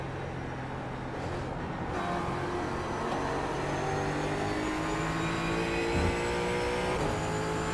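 Ford Mustang race car in the iRacing sim, engine droning steadily at high revs with rising and falling pitch through gear changes, loud and continuous with no talk.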